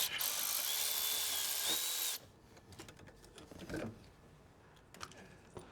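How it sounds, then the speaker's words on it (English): A hand ratchet clicks rapidly and steadily for about two seconds while a bolt is loosened on a turbocharged 2025 Toyota Tundra engine, then gives way to quiet handling noises and light metallic taps. "I got a bolt in here I can remove"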